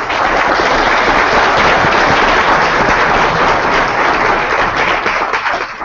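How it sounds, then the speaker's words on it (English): A conference audience applauds panelists with dense, sustained clapping at a steady loud level for several seconds, fading slightly at the end. "A huge round of applause"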